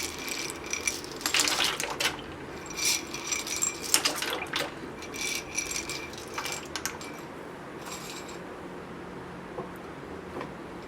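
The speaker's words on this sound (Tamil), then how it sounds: "ஸோ இந்த ஸ்டேஜில் நம்ம பாஸ்தாவை ஆட் பண்ண போகிறோம்" Dry pasta tipped into a pot of hot water, giving a cluster of close, bright clattering and rattling clicks that spill in irregular bursts and then thin out to a few scattered taps.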